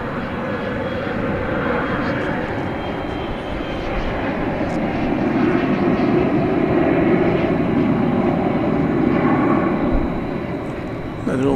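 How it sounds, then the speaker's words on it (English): An American Airlines Airbus A321 takes off at night from DFW Airport, bound for Palm Springs, with a continuous heavy engine roar that builds gradually and then eases slightly. Speech is audible alongside it. "American Flight 2709 is about to launch off."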